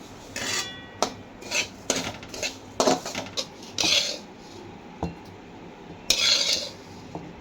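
Poppy seeds roast in a little oil as a metal spoon stirs and scrapes the pan, giving irregular clinks and scraping bursts close by with quiet gaps between them.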